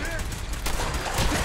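Sustained gunfire in the Fallout 4 video game, a dense burst of shots that runs through the whole short span at a steady loud level, with speech mixed in.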